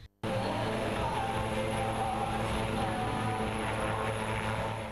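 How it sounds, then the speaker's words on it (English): A helicopter flies away after a ceremony, its steady, loud rotor and engine drone filling the air without pause, close enough to dominate with no voices over it. "Then it was on the helicopter and gone."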